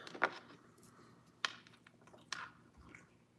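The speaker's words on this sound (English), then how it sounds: "If you hear someone's mouth going, like it sounds like they're chewing, that's Louis" A dog chews close by in a quiet room, giving a few sharp, separate mouth clicks and crunches spaced out over a few seconds against near silence.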